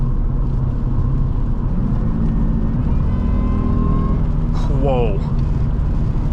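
2003 Jaguar S-Type R pulling hard on the road, a steady low engine and road roar heard from inside the car, with a brief exclaimed voice over it near the end.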